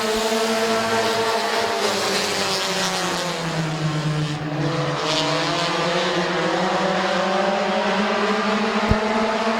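A pack of race cars roars away at the green flag start at Midvale Speedway, engines loud and close, rising in pitch as they accelerate together, a dense sustained snarl of motors with no talk over it.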